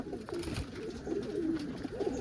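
Pigeons and their young coo in soft, rolling, repeated phrases close by on a household pigeon loft during deworming, continuous and fairly quiet over a low background murmur, with no speech.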